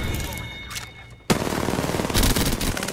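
Gunfire in the Apex Legends video game: a brief lull with faint clatter, then an abrupt, loud burst of sustained automatic weapon fire that continues steadily to the end.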